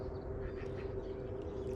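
Ducks quacking at the water's edge over a steady, noisy background hum, a few faint calls in the middle distance with no talk.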